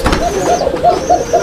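A brown pigeon coos up close at a market stall, giving a quick series of soft, rhythmic coos and throaty murmurs about half a second apart.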